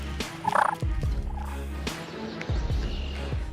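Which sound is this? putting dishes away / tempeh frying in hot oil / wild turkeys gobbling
wild turkeys gobbling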